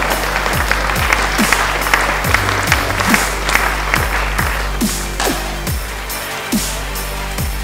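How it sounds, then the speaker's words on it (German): Audience applause at a juggling show: a steady wash of many hands clapping, dense and sustained at close range, with a faint rhythmic thump running underneath and no voices. "Ja, normalerweise gibt es an der Stelle immer Applaus."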